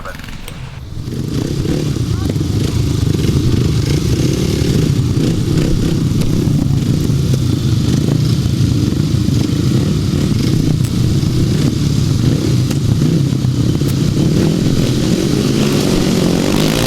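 Grasstrack motorcycles race at a 2006 meeting in Tallington with a loud, continuous engine roar that swells in after a brief quieter opening. A voice talks faintly underneath.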